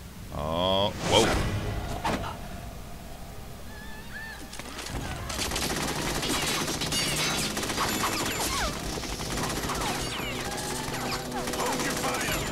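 Sustained rapid gunfire fills a Metal Gear Solid 2 game scene after a sharp opening crash, with dense bursts running for several seconds while voices talk over it.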